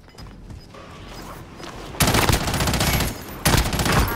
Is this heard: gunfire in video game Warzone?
yes